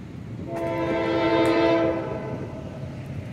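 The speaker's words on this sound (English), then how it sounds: "there's that rock train," A loud, sustained train horn blares for about a second and a half over the low rumble of a passing freight rock train in Folkston, then fades back into the rolling noise.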